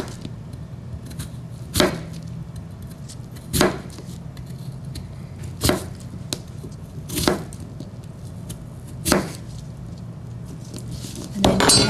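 A knife chops firmly through potatoes on a cutting board, six sharp separate strikes spaced about two seconds apart, close and distinct over a quiet background.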